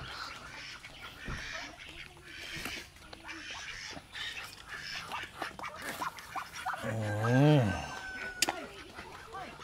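Ducks quack amid a busy farmyard, with one louder, drawn-out honking call near the end over general background noise.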